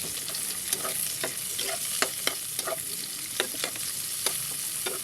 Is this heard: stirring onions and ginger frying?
yes